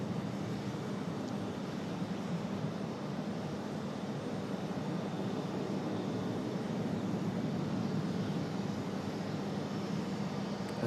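A Republic Airways jet departing Raleigh-Durham airport and banking into a turn gives a continuous, moderately distant engine roar. The rumble is steady and broadband throughout, with no speech.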